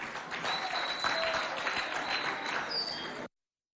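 An audience applauds school students after their dance performance at a provincial show, a steady, moderately loud patter of many hands that holds evenly for about three seconds and then cuts off abruptly.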